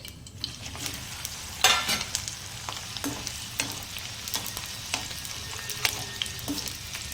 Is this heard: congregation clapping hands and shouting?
no